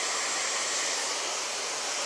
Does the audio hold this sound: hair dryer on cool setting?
yes